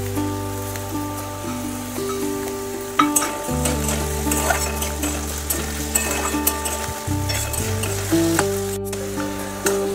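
Chopped onion frying with potato for batata poha makes a steady crackling sizzle under loud background music, with repeated light scrapes and taps as it is stirred.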